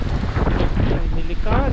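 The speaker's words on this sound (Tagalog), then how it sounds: "Oh, ang lakas po ng ulan at hangin." Strong typhoon wind and rain roar in a dense, buffeting rush close to the microphone, gusting continuously, with a voice briefly rising near the end.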